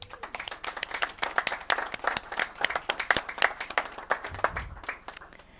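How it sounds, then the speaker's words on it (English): A small group applauds at a Senate judiciary committee meeting, a brief round of scattered hand clapping at moderate distance that tapers off after about five seconds. "I just wanted to thank Pat and give her a little round of applause."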